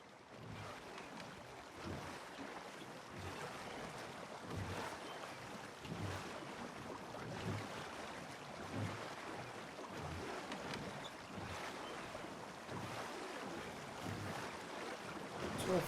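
A rowboat in the Red Dead Redemption 2 video game glides across a lake, with soft rhythmic water strokes about once a second over a steady wash of wind and lapping water, fairly quiet and with no talking.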